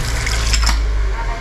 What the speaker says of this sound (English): So it's like warm water to start.